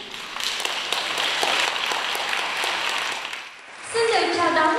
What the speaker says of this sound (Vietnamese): Xin mời quý vị chúng ta sẽ cùng dành những tràng vỗ tay thật là lớn